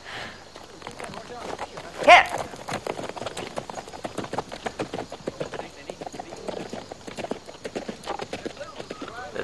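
Horse hooves clip-clop in a steady, close rhythm while people talk over them, with one louder knock partway through.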